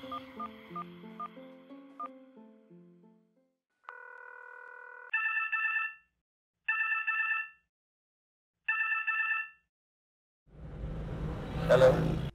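A phone places an outgoing call, with quick dial tones, then a steady tone and three separate ringback rings with silent gaps between them, and a voice at the end.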